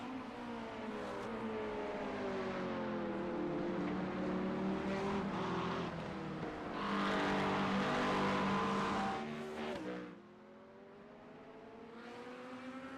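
Porsche race car engine in a sim racing endurance event at Silverstone, a steady high-revving drone with shifting harmonic pitch as it accelerates and changes gear, growing louder midway before dropping off, with no commentary over it.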